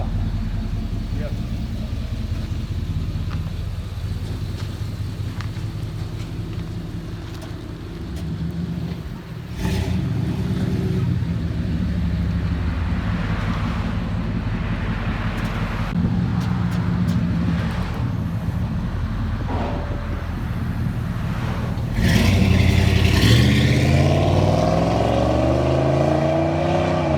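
Deep, steady exhaust burble from a 1988 Chevy 1500 V8 with a stock converter, dual tailpipes and a Flowmaster 40 series muffler, idling with a few blips and a louder rev near the end, while someone talks over it.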